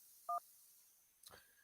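Telephone dialing tones on a radio show call-in line: one short clean keypad beep, then a brief muffled clunk or rustle a second later, faint and alone.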